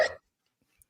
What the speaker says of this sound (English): Pardon, that was a hiccup.